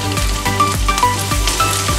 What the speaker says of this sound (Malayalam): ഇനി നമുക്കിതിലേക്ക് ചീനച്ചക്ക ഇട്ട് കൊടുക്കാം.